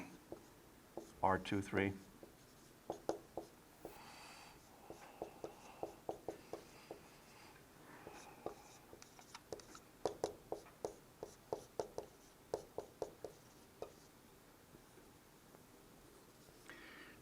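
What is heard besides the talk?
writing by hand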